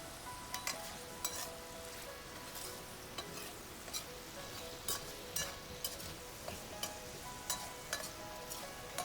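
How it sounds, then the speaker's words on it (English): Jalapeno stir-fried in leftover bacon oil with a little salt in a pan, a soft continuous sizzle broken by regular scraping stirs, close and quiet. "stir fry for about 2 minutes until the jalapeno is soft"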